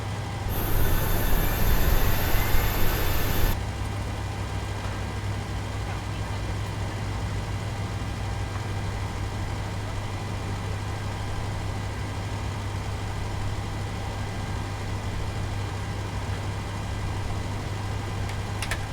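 Engine 2 of a Boeing 737-700 starting in the PMDG add-on for Microsoft Flight Simulator 2020: a loud high whine for the first few seconds settles into a steady low drone and hum with no talk.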